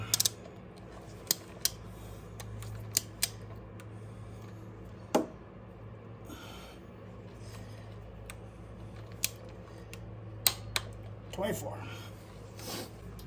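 Ratchet or wrench working a bolt on a Harley-Davidson cam chain tensioner, sparse sharp metallic clicks and ticks spaced irregularly over a low steady hum, close by, with someone talking in between.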